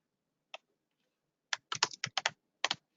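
Typing on a computer keyboard, one isolated keystroke followed by a quick burst of about eight to ten close, crisp clicks in an irregular rhythm, quiet room, no talk.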